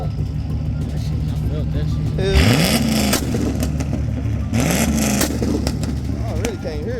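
At a car meet a car engine revs hard in two loud bursts that rise sharply in pitch over a steady idle, close by, with voices talking throughout.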